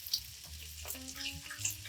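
Salmon fish cakes fry in a pan with a quiet, crackling sizzle and a few faint ticks, sitting low under a soft tonal background.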